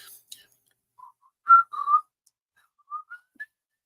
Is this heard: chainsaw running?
no